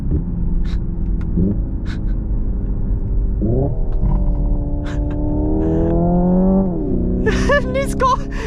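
A Hyundai IONIQ 5 N's simulated engine note plays loud and close, its synthetic tone climbing and then dropping in steps like fake paddle-shifted gear changes, with a brief burble at the end.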